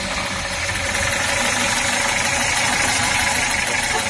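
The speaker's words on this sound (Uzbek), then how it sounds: "Zavat qilsangiz ovozini ham eshitib olamiz." A 1974 car's engine idles steadily at a used-car market in Sergeli, a continuous low mechanical rumble with slight knocking vibration, close and fairly loud throughout.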